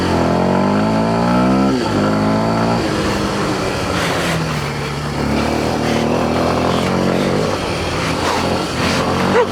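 A Kawasaki KLX 230 motorcycle engine revs loudly and close during off-road riding, its pitch rising and falling through sustained throttle with no talk over it.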